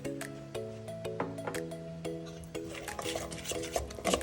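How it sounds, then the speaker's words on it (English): Tikka marinade stirred in a bowl, a spoon scraping and clinking repeatedly against the sides in a loose rhythm, close and clear with a faint background hum and no talk. "Mix it some more."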